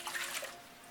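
Water is poured from a measuring cup into a bread machine pan, a brief soft splashing trickle that fades within a second.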